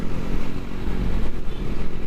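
A 2023 Polytron Fox-R electric motorcycle accelerates in sport mode to overtake in traffic, giving a steady, loud road and wind rush with a low drone and no talking.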